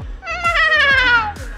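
A person imitates a cat's meow with a drawn-out, rising-then-falling vocal mew, single and close, briefly wavering before trailing off, with a short voiced sound at the end, during a K-pop group's behind-the-scenes dance studio session.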